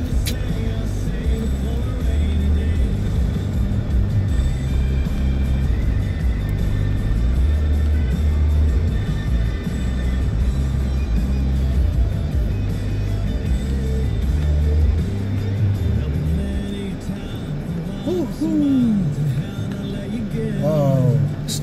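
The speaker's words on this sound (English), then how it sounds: "Wow, it's traffic. Always traffic in downtown anyway, right?" Downtown car traffic rumbles along in a continuous low engine drone with occasional passing vehicles, while a person talks over it.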